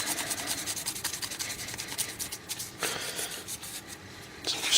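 Fine 1200-grit sandpaper rubbed over a small metal lock pick clamped in a vise, a steady close scratchy back-and-forth rasping that keeps going throughout with short pauses and no talking.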